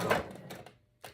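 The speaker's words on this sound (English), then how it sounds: "sew at a 1/4 inch seam allowance, and then again forward and back" A sewing machine stitches patchwork fabric at a quarter-inch seam, giving a brief close burst of rapid mechanical stitching, a short pause, then another quick run as it goes forward and back.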